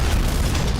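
A short, loud, rumbling explosion effect fills the moment with a dense low boom and no voices.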